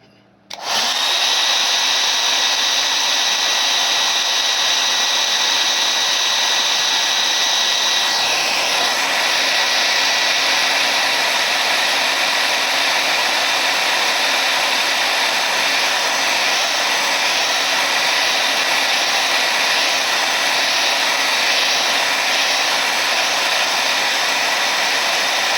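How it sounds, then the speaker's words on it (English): A blow dryer is run over spray bottle artwork. It switches on after a brief silence and then holds a loud, steady, high-pitched whir for the rest of the time, alone with no talking. "run the blow dryer over both of them."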